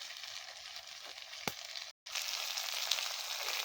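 A pan sizzles steadily over an outdoor fire at a forest cookout as tomatoes and chili go in, a loud continuous frying hiss with one brief dropout partway through.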